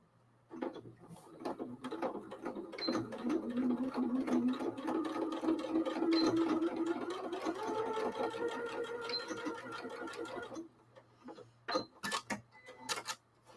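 A sewing machine stitches grocery bags in one long close run of rapid mechanical ticking and whirring. It stops abruptly, followed by a few short bursts of needle clatter.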